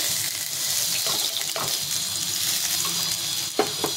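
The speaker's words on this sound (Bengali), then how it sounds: "মাছগুলো সব এরকম লাল লাল ভাজতে হবে" Fish frying in oil until reddish, a dense continuous sizzle with a few clinks from a utensil near the end, close and steady with no talk.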